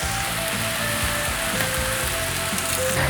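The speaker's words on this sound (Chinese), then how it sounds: "现在放入甜椒、 红喜菇、腐竹， 开中大火，快速的翻炒" Bell pepper, red mushrooms and tofu skin stir-frying over medium-high heat in a wok, a steady close sizzle with scraping clatter of quick tossing throughout, no voices.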